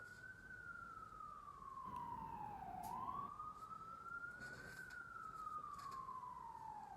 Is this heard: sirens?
yes